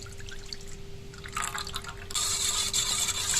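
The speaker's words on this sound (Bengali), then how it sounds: "এবারে চিনি মেশানো দুধটা ডিমের মধ্যে দিয়ে দেবো।" Sugared milk poured into a bowl of beaten eggs: a soft liquid trickle that turns into a fuller, steady pouring splash near the end, close and fairly quiet, with a faint low hum under it.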